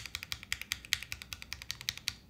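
Keys on a Paragon mechanical keyboard are struck one after another in a steady rhythm, producing about sixteen crisp, close, clacky presses with no voices.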